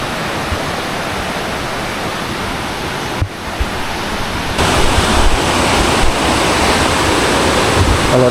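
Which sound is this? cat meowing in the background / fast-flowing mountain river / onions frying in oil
fast-flowing mountain river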